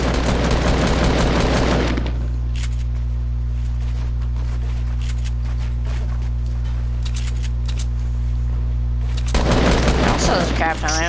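Assault rifle fire rattles in an online shooter game, with dense bursts of rapid shots at the start and end around a quieter stretch, while people talk over it.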